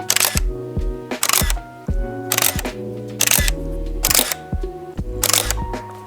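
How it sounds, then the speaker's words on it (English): A Canon 5D Classic DSLR with a lens fitted fires its shutter about six times at roughly one-second intervals, each a crisp, loud mechanical clack heard up close with no speech. "once you have a lens on here and when you're all ready to roll, the shutter sound is just incredible."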